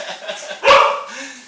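One sharp, loud dog bark at the door close by, cutting through quieter indoor background noise, with a short whine trailing after.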